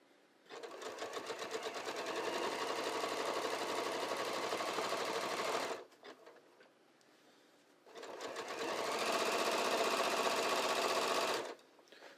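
A sewing machine stitches along the folded edge of a pair of pull-on pants, running in two long steady bursts with a short quiet pause between them, close and loud with no talking.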